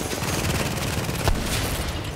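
Rapid gunfire in the co-op shooter game The Division, a dense barrage of overlapping shots and bursts, loud and continuous, with one sharper blast near the middle.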